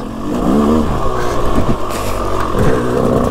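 A GasGas 125 trials motorcycle ridden at low revs, its engine burbling and revving unevenly close by, loud and continuous with rough fluctuations throughout.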